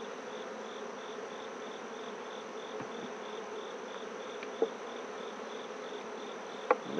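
Dense, steady hum of many honey bees buzzing inside a crowded beehive during an equinox hive inspection, close and continuous, with a couple of brief sharp knocks from handling the hive frames.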